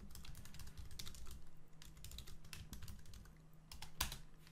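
Someone types on a computer keyboard, entering text into a Google Sheets spreadsheet, with a quick, uneven run of close, quiet key clicks and one sharper tap near the end.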